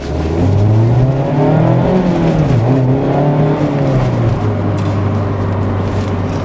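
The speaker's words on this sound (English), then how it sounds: "Just to give you a feel for that engine rev without me talking through it." A 2022 Mazda Miata's engine revs loud and close on the highway, pitch rising and falling through a sustained drone with steady road noise and no talking.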